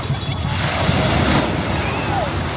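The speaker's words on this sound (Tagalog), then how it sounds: "malakas lang yung alon" Strong ocean waves break and wash along an island shore, making a continuous loud surf rush mixed with wind buffeting on the microphone.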